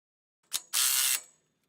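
Ratchet wrench tightening a bolt on hoop house purlins, a short clicking burst followed by a longer, steady loud ratcheting run of about half a second, close up with no talk.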